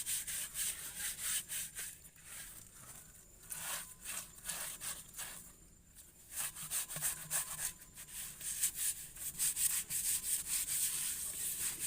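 A toddy container is scrubbed and washed outdoors in the morning, giving repeated rough rubbing strokes in bursts with brief pauses, close and fairly quiet, with no talk.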